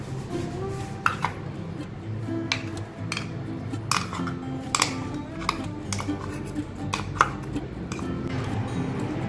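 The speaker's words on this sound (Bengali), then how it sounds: "এবার এটাকে আমি ছেঁকে নিচ্ছি" Ground leafy paste for a sharbat is strained through a sieve. Light clinks, taps and scrapes of metal utensils and a jar recur irregularly over a low, steady background, close and fairly quiet.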